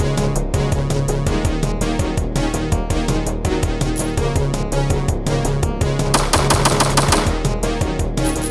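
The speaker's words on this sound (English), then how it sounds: "Automatic shotgun." An automatic shotgun in the dungeon game Operation: Rogue Dungeon fires in a fast, steady stream of loud repeated blasts over layered game music, with no talk.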